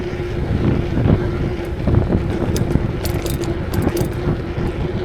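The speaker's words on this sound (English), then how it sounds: "Not the same as last night. Wind blowing westward. Southwest." Strong wind buffets the microphone during an outdoor city ride, a loud, continuous roar with gusty swells and a few faint clicks on top.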